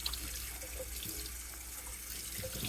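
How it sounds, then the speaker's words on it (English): A small amount of water poured into a DIY self-watering setup for an indoor plant, a steady close trickle and splash lasting a few seconds. "I'm gonna add just a little bit of water here"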